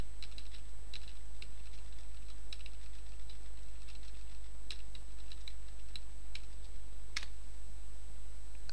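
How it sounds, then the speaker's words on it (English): Light keyboard typing while entering a command at a computer, soft scattered keystrokes spread irregularly over a steady electrical hum, with no talking. "we type in the following command to start the CCAT scan process."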